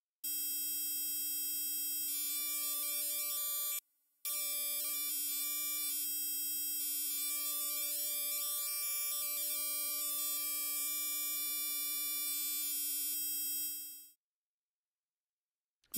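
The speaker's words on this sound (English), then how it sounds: "With this noise wavetable, we have a random array of harmonics." A synthesizer tone built from a noise wavetable under pulse-width modulation holds a static, buzzy chord of scattered harmonics, broken by one short gap early on, then cuts off cleanly, leaving silence for the last two seconds.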